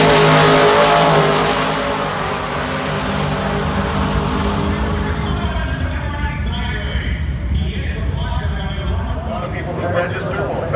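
A drag race car launches hard at Drag Week and lifts its front wheels. Its loud engine roar opens close and strong, then settles into a long wash of broadband noise while people talk nearby.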